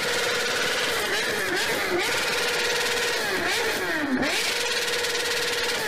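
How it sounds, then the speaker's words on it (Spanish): A BMW S1000RR sport motorcycle's inline-four engine roars and revs at close range, the pitch climbing and dipping through repeated throttle blips, a sharp rev swell near the end, with a constant wind-like rush beneath. "escuchen cómo ruge la S1000RR"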